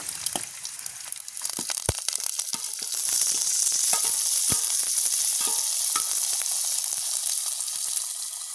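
Chopped onion, green chili and curry leaves sautéing in hot oil in a pan in a village kitchen, a bright crackling sizzle that swells louder midway, with scattered clicks and scrapes of stirring.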